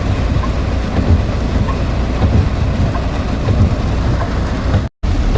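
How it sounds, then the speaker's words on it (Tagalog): Heavy rain pours down in a continuous loud roar with deep rumbling underneath, the downpour steady and dense, cut by a brief drop-out near the end. "Grabe to, lakas ng ulan na to."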